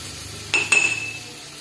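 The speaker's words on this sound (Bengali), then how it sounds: "এবারে এটা একটু ভেজে নেব।" A paste of ground coriander, cumin and ginger fries in a pan, with two quick clinks of a utensil against the pan and a short sizzle in a quiet kitchen.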